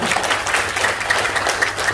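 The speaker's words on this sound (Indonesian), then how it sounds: "Nah, tepuk tangan buat PT Benz ya." Seminar attendees at a business talk on debt relief give a round of applause, a steady, moderately loud patter of many hands clapping throughout.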